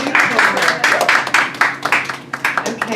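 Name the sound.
applause for a performer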